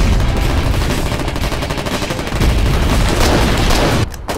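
Artillery fire in the Foxhole war game, with a loud, dense, continuous roar of booming blasts and gunfire crowding the whole clip, then a brief sudden drop near the end.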